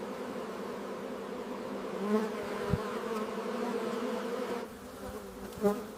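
Honey bees drone steadily inside an opened hive, a dense, close buzzing that swells slightly as individual bees pass nearer.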